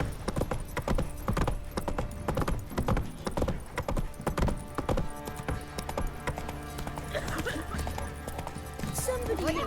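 Horse hooves clip-clopping at a gallop in The Witcher 3, steady repeated hoofbeats with an occasional whinny, under game voices talking throughout and a swell of music.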